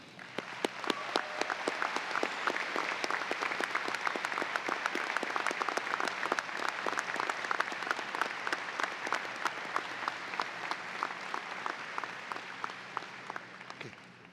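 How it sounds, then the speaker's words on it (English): Sustained applause from a large crowd at a medical school commencement, many hands clapping in a thick continuous roar with a few sharp individual claps standing out, steady for the whole stretch and then fading slightly near the end. "Please join me in another round of applause"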